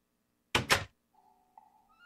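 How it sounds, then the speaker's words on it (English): A door swings shut with two quick, solid thumps close by, then a faint, thin electronic tone lingers afterward in an otherwise quiet room. "Just close the door."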